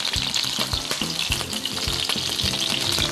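Crucian carp pan-frying to a golden crust, with a loud, steady close sizzle throughout and regular low thumps as the fish is pressed and broken up in the pan.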